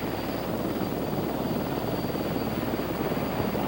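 A CH-54 heavy-lift helicopter hovers with its engines running, giving a steady, dense roar of turbine whine and rotor noise that stays loud and unbroken throughout with no talk.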